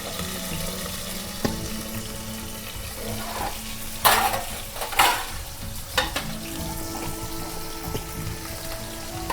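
Onions fry in a pan for tomato egg curry, giving a continuous sizzle with stirring scrapes and a few sharper clatters of a spoon against the pan.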